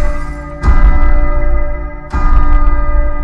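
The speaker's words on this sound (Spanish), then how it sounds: "Tres campanadas." A clock strikes in deep, booming chimes, each one loud and close with a long ringing decay, the strokes spaced more than a second apart.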